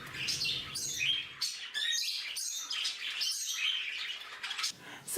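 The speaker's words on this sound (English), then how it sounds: "Here he is again, talking to his perch." Pet budgie chirping and chattering at its perch, a close run of bright tweets, warbles and squeaky calls with brief pauses between bursts.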